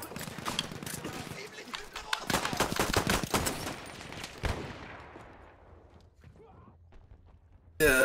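Rapid bursts of gunfire in the video game Battlefield 1, rattling quickly and then trailing into sparse, fainter shots, with a sudden loud burst near the end.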